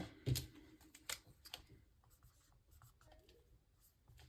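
Soft scratching of a pen moving across paper, in short irregular strokes with a few sharper taps, quiet and close.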